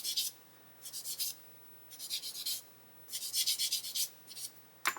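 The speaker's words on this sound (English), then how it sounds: "we can just get a sanding sponge and just polish it" Repeated rasping strokes of a sanding sponge polishing a part of a 1/8 scale Pocher Porsche 917 model, in short bursts with brief pauses, close and fairly quiet.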